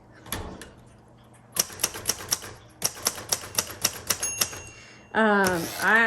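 Typing on a 1977 Royal Sabre typewriter: two bursts of crisp, evenly paced keystrokes close up, followed by a voice speaking.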